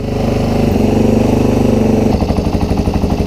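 A Yamaha XT225 motorcycle with a freshly cleaned carburetor and the choke on runs loudly up close, first at a steady rev, then dropping into a rhythmic, loping idle.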